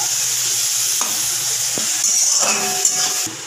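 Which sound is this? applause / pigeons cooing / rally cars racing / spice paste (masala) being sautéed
spice paste (masala) being sautéed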